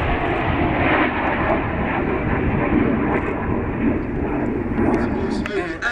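Red Arrows jet aircraft flying a display at the Roskilde Airshow, a loud, continuous roar that holds steady throughout, with a voice talking over it.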